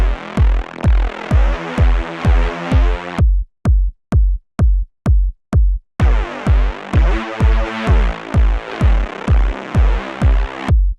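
A Reese bass synth runs through filter, saturation, chorus and EQ plugins, playing a simple melody of thick, buzzing notes in a steady pulsing rhythm over punchy low hits. The notes drop to short, clipped stabs midway, then the full sustained sound returns.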